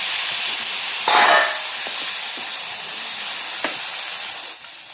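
A steady, loud hiss of boiled green peas sizzling in a hot pan, with a brief louder burst early on and faint scraping clicks.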